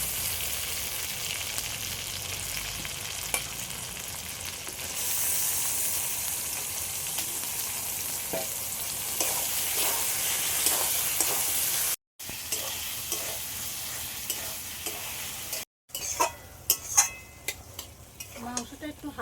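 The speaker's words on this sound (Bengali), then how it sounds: "মশলাটা একটু ভালো করে কষে নেব আর মাংসটা দিয়ে দিচ্ছি" Meat stirred and frying in a spice masala for Bengali mutton ghugni, a steady close sizzle with scraping stir strokes throughout and a couple of brief gaps near the end.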